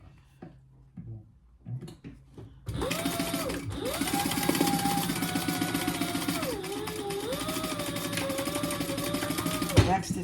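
A sewing machine runs steadily, stitching a bag lining with a quarter-inch seam, close and continuous for most of the stretch after a brief quiet start with small handling noises.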